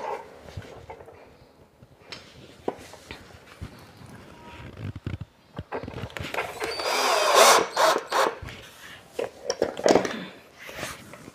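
A power drill tightens a screw on a modular kitchen tandem box, firing in short, loud, uneven bursts separated by quieter handling noise.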